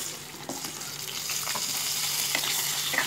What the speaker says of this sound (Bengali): দিয়ে প্রথমে আমি আলুগুলো ফ্রাই করে নেবো।